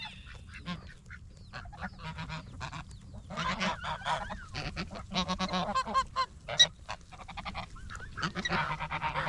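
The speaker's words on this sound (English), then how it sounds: "Is that a goose or a duck?" Geese and ducks gathered while feeding, giving a busy chorus of overlapping honks and quacks at moderate distance over a steady low background rumble, continuous throughout with no speech.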